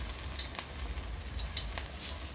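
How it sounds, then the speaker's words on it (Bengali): Banana flower and cabbage pakoras frying in hot oil, a steady low sizzle with a few brief crackles and pops, close and moderately quiet, with no talking. "তেল গরম হয়ে গেছে, এবার আমি এখানে একে একে পকোড়া ছেড়ে দেব।"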